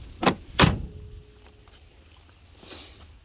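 The door of a Ford Cortina Mk4 Ghia 2.3 V6 under restoration opens and shuts, making two close, loud metallic clunks followed by a faint rattle.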